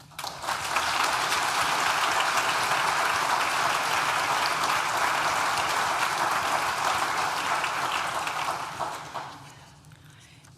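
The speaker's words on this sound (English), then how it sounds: "Please join me in thanking them with a well-deserved round of applause." A large audience at a university graduation ceremony breaks into loud, dense, sustained applause that holds steady for about eight seconds and then fades away.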